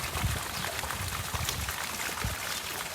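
Sea water spouts gushing on a windy shore make a loud, continuous rushing and splashing wash with irregular low surges, close and alone without voices.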